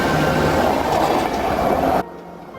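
A train rumbles by with a loud, close, broadband roar and faint rail clatter, then cuts off abruptly near the end, leaving quieter background.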